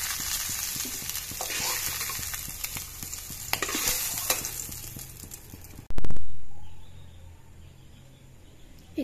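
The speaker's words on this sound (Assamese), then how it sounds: "এতিয়া ইয়াত তেল দি দিলো অলপ গোটা জিৰা এচামুচ দি দিলো আৰু পাঁচফোৰণ এচামুচ দি দিলো" Whole cumin and five-spice seeds hit hot oil in a pan for a pointed gourd curry, giving a loud, close, steady crackling sizzle with stirring scrapes, then a sudden hissing surge that slowly dies back to a softer fry.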